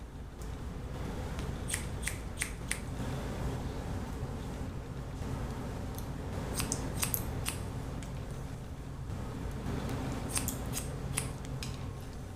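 Sharp scissor snips cut a man's hair in quick bursts of three or four closely spaced clicks, repeating several times at close range over a steady low background hum.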